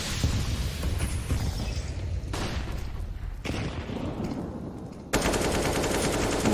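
Dense automatic-rifle bursts and gunshots ring out during a Counter-Strike esports match between Fnatic and GODSENT, loud and continuous, with abrupt shifts in intensity as the fire cuts between positions.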